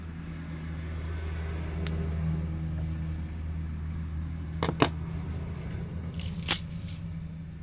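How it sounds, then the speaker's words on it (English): Road traffic passes outside with a steady low rumble, rising slightly and then easing, plus a couple of brief sharp clicks and knocks nearer by. "there was a little rush of traffic there"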